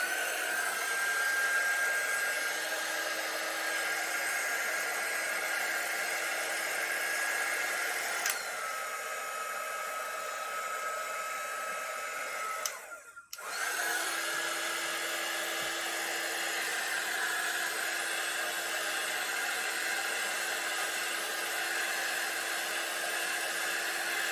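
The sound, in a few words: heat gun blowing on acrylic paint pour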